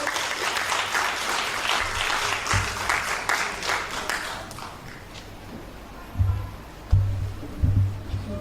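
Applause from a school graduation audience in Port Maria after a student's speech, a broad wash of clapping that thins out midway, with a few louder low thumps near the end.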